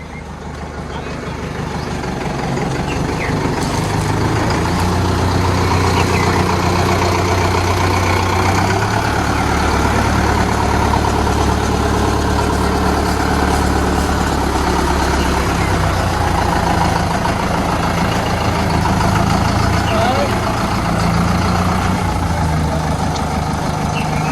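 Tractor engine idling steadily with a low, continuous rumble, loud and close, rising in at the start and holding for the rest, with voices faintly in the background.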